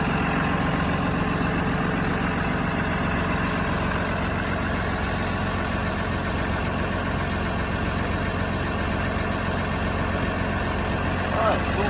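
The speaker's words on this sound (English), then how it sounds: "the engine should be warming up now" A box truck's engine idles steadily during a pre-trip check, a constant low mechanical rumble running the whole time with a faint voice in the background.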